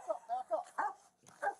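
A dog barks five times in quick, short, moderately loud bursts, with a brief pause before the last bark.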